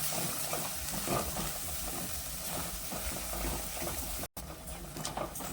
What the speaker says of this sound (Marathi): मसाला चांगला भाजलेला आहे